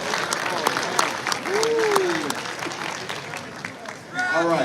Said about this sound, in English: Y'all give a round of applause for Devontae Tank Davis.